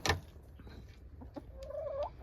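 Hens in a backyard chicken coop built from reused wood and five-gallon buckets, with a sharp cluck at the start, scattered soft clucks, then a rising warbling call near the end, moderately close.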